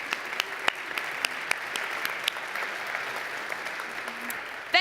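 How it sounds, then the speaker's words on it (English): An audience at a pitch competition award ceremony claps steadily for several seconds, a dense even wash of hand claps with a few louder individual claps standing out, moderately near and without talk over it. "let's give them another big applause"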